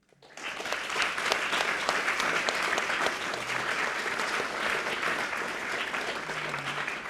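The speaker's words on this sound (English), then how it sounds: "can we please have a warm welcome and a round of applause" A lecture-hall audience breaks into sustained applause welcoming a guest to an on-stage conversation, dense steady clapping that swells in within half a second and holds evenly throughout, with no voices over it.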